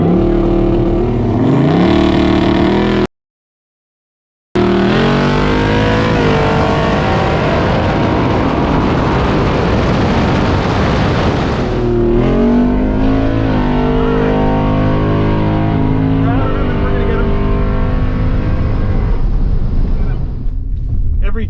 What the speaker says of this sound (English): So much motor, the sound coming out of those open pipes.